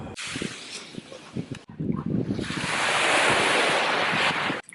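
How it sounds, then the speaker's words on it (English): Ocean waves crash and wash loudly nearby at night, a continuous roaring surf mixed with gusty wind buffeting the microphone. "it is just the waves crashing behind me"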